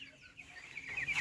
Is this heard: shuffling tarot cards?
no